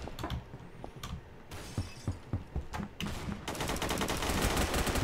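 Gunfire in the Roblox shooter Phantom Forces: bursts of rapid automatic shots and single cracks with shattering glass-like impacts, building into a sustained loud fusillade toward the end.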